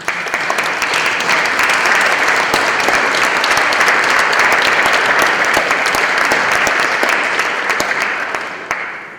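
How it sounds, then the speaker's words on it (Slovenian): Loud, dense applause from the audience at a museum exhibition opening about cotton, many hands clapping continuously and evenly before tapering off slightly at the end. "En aplavz za vse tiste, ki so pomagali in sodelovali pri"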